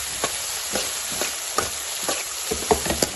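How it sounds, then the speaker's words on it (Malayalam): Raw plantain sautéing in a pan, a steady close sizzle broken by soft scraping stir strokes every half second or so, with no voices. "അത് നന്നായിട്ട് വഴറ്റിയെടുക്കുകയാണ്"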